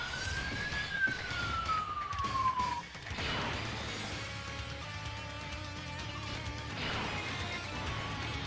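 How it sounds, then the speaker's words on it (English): Police sirens wail outside a house, one rising and falling tone sweeping clearly at first, then further sirens fading in and out more distantly over a steady background hum. "why is there so many freaking sirens coming happening outside of my freaking house?"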